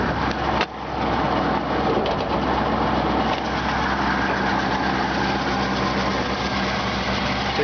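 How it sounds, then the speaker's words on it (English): A 1964 Ford Galaxie 500 engine idles steadily and loudly, a continuous low rumble with a brief dip near the start and no speech. "Let you get a listen to this engine."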